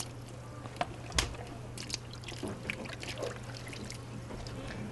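Cold water poured to wash honey off during beekeeping work in Kenya, a soft uneven trickle and splashing with a few sharper spills and drips, fairly quiet against a low steady hum.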